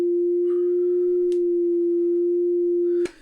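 A detuned FM tone from a Sonicware Liven XFM synthesizer: a single steady, pure sustained note held for about three seconds, clean and upfront, then cut off abruptly with a small click.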